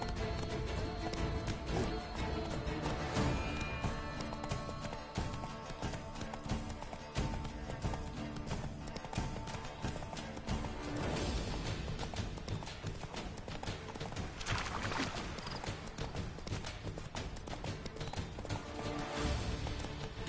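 A horse gallops in The Witcher 3, its dense, rapid hoofbeats steady and loud throughout, with a faint whinny partway through and a continuous game backdrop underneath.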